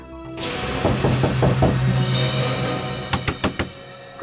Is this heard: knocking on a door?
yes